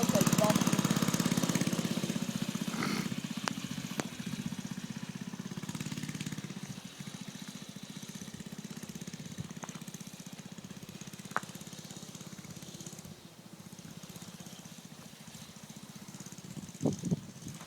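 A mini bike's small engine runs steadily nearby with a buzzy, mower-like drone and occasional clatters, while people talk in the background.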